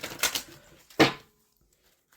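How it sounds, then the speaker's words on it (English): A deck of oracle cards is shuffled by hand: a few quick riffling bursts, close and crisp, the last one sharpest, then quiet, with no talking. "let me shuffle these oracle cards for a concluding"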